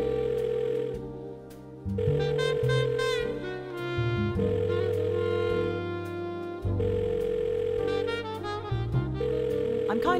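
Telephone tones from the Blackwell Deception video game sound in steady held bursts that switch pitch every couple of seconds, playing over a layered musical backdrop.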